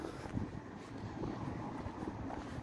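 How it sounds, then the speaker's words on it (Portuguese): Outdoor wind on a sunny day in Seixal, Setúbal, Portugal, buffets the microphone with a steady low rumble and irregular gusty thumps throughout, with no voices present. "Tá ventando um pouquinho agora, pessoal. Me desculpa. Pode estar atrapalhando aí o áudio"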